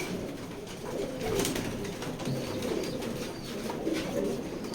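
Racing pigeons at a loft coo softly in low, repeated murmurs, with faint chirps and light rustling close by and no voices.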